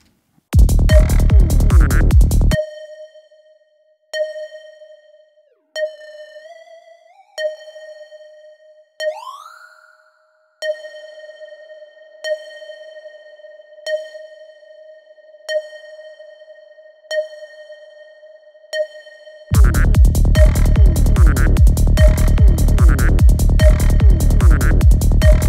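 A plucky synth tone made in the Serum synthesizer, drenched in heavy reverb, rings out as a bell-like note repeated about eight times with long glassy tails, framed by busier dense synth passages at the start and end.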